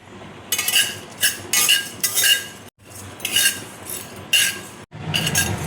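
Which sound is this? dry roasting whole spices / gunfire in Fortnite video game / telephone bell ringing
dry roasting whole spices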